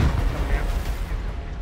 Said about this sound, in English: Just firing rocket.